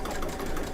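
Brother Luminaire XP2 embroidery machine couching yarn onto fabric, a steady close mechanical whir of rapid stitching throughout a short burst.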